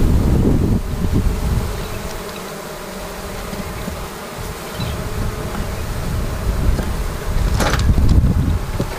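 Honey bees buzz steadily at an open beehive, a dense droning hum that carries through the whole stretch at close range, with light wind rumble on the microphone and no talking.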